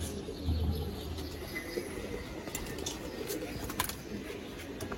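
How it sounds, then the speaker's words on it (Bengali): A female pigeon coos in low, soft tones near a loft, faint against a steady background hum with a few light chirps from other birds. "এটা মাদি কবুতর না ভাই?"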